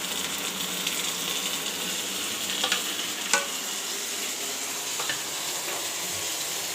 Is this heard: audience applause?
no